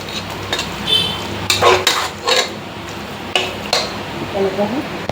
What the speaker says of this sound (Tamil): தக்காளியை போட்டுக்கலாம். இதெல்லாம் நல்லா ஒரு வாட்டி வதக்கி கொடுத்துக்கலாம்.